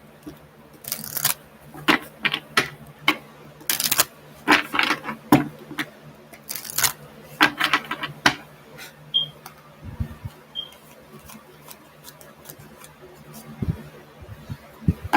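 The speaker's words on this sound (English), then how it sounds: "I'm just shuffling." Tarot or oracle cards are shuffled in quick riffling bursts and soft flicks, irregular and close, with quiet pauses in between.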